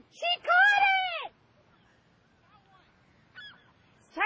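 A seagull held by a person lets out a loud, harsh squawking call, then quieter short cries follow with pauses between them.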